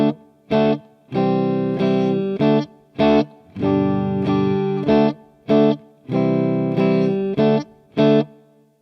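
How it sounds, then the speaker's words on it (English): Chords strummed on an acoustic guitar in short rhythmic bursts with brief pauses between, bright and close, no voices. "Nice strumming there."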